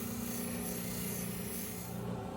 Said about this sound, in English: Next up is the 280 grit soft wheel.